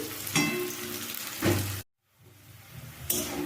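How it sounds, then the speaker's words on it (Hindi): Onions sizzle in a hot pan with bursts of crackling, a brief drop to near silence, then the frying hiss returns. "तो चलिए प्याज को हम सुनहरे कलर आने तक फ्राई कर लेंगे।"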